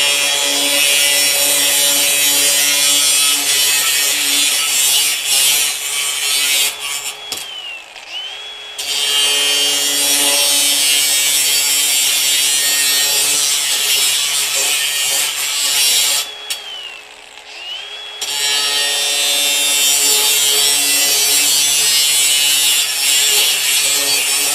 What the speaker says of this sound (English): we've got some typical 1-inch conduit here, and we've got an abrasive blade on here